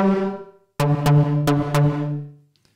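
A Moog synth in Logic Pro X sounds rich, buzzy sustained notes, cut off, then restarted with four sharp rhythmic hits carrying a gated drum-style reverb that ends abruptly.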